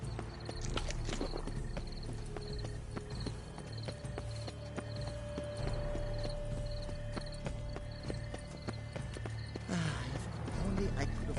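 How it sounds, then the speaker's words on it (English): Horse hooves clip-clop steadily at walking pace in a PS4 video game, close and continuous over a bed of game ambience and music, with voices speaking intermittently throughout. "If only I could afford that horse myself."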